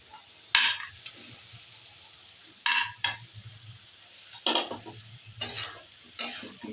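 Fried potatoes are stirred into sizzling curry masala in a pan: a steady frying sizzle runs throughout, broken by five or so loud scraping stirs at irregular intervals.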